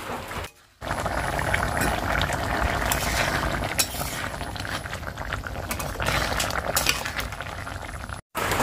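A pot of vegetable curry bubbles as it boils after water was added to fried spices, a continuous close, loud simmering hiss broken by a brief pause early on.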